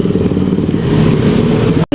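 A motorcycle engine runs loud and close with a steady mid-pitched drone and rattling texture, then cuts off abruptly at the very end.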